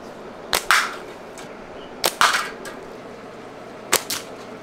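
A natural fork slingshot fires three shots, each a sharp snap followed moments later by a bright metallic ping as a spoon propped on a hay bale is struck, heard outdoors without any talk.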